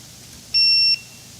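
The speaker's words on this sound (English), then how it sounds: "when you plug it in, it just does that alert beep" A tower indicator light gives a single short, bright electronic beep lasting under half a second when plugged in, loud and alone against a quiet background.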